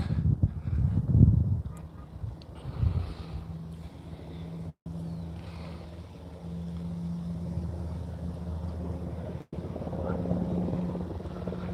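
A nearby helicopter throbs with a steady low rotor drone and thumping beats, moderately loud outdoors, with wind buffeting and two brief dropouts.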